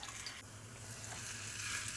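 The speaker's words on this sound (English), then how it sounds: "Spoon in the potatoes, and you do want to hear that sizzling sound." Quiet, steady sizzling and crackling of grated potato rosti in a hot skillet, a faint continuous hiss with no voices.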